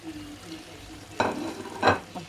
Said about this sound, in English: I'm going to add in my mackerel now in there.